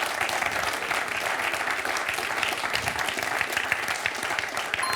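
A studio audience on the French TV quiz show Questions pour un champion claps steadily for a contestant, a dense, even round of applause without talk that holds at constant volume.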